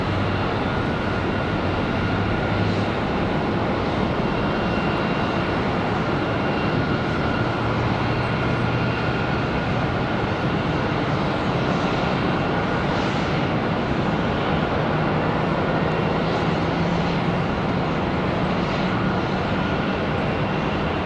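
A jet airliner taxis at Charlotte Douglas International Airport, its engines giving a steady, loud, continuous roar with a low drone that holds for the whole stretch, with no voices.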